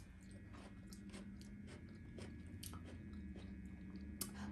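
Crunchy candied pumpkin marmalade, hard outside and soft inside, being chewed close up: a run of quiet, irregular crisp bites and crunches with soft squishy mouth sounds between them and no talk.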